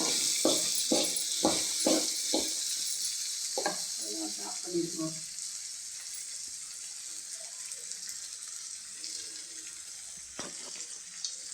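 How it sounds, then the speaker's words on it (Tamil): Mustard seeds crackle and pop in hot oil for a Tamil avarakkai kara kuzhambu, a steady sizzle carrying sharp, clustered spits early on, then settling into a continuous hiss with occasional louder pops. "பாருங்கள், கடுகு நல்லா பொரியுது."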